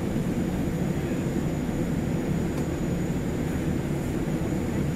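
Steady airliner cabin noise during the descent into Narita Airport on a business class flight from Manila, a loud, even engine and airflow roar filling the cabin without change, with no voices over it.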